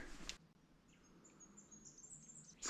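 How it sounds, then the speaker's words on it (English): Birds chirp in the bush on a walk near Halls Gap: a few faint, high, thin calls over quiet outdoor background, brief and distant, with no talk. "So peaceful. Nothing but birds. Birds and me."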